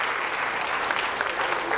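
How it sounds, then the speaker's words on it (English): Audience applause for a speaker being introduced on stage at a science talk, a steady dense patter of many hands clapping throughout, fairly close and loud with no voices over it. "Give a round of applause for Kat Altman"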